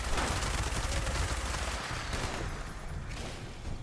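Dense, rapid gunfire from the video game Fallout 76 crackles in continuous overlapping bursts, loud and sustained throughout without pause.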